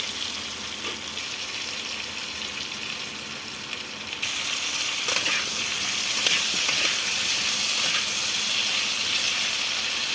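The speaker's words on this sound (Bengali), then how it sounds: "সেই তেলে আমি আলুগুলো ভেজে নেবো" Long-cut potato strips fry in hot oil for a hilsa curry dish, a steady dense sizzle that grows slightly louder midway and holds without talk.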